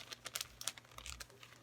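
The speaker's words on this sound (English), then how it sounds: "cellophane bags. These resealable ones." A pack of resealable cellophane bags is handled up close, giving several quick, faint crinkles and rustles in short bursts.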